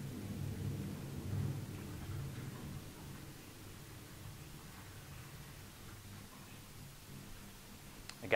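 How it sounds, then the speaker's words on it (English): Recorded thunderstorm playing faintly in the background of an indoor exercise class, a low steady rumble and rain-like hiss with a slightly louder swell near the start. "Got some thunderstorms playing in the background."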